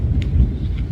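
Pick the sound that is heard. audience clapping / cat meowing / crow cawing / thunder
thunder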